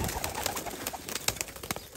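Pigeons coo in a dense, overlapping chorus of soft repeated calls, fairly close but quiet, with no voices heard.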